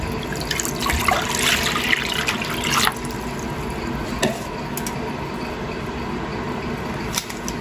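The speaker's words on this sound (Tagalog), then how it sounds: "ilagay nyo na ang inyong 3 cups water" Three cups of water poured into an unlit saucepan on a stove for a coffee gelatin dessert, a steady close splashing pour that eases to a softer trickle after the first few seconds.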